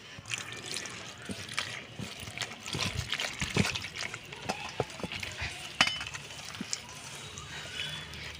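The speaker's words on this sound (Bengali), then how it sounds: "আমি এবারে অল্প অল্প করে জল দিয়ে গোলাটা রেডি করে নেব" Water is added little by little to salted flour batter for thin pithe while the hand mixes it, giving close, uneven wet trickles, squelches and sloshing in irregular bursts.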